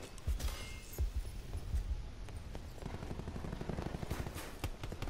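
Gunfire from the video game Black Ops 4 rattles in quick bursts, a few heavier single booms early and then faster rapid shots, all fairly quiet and low in the mix.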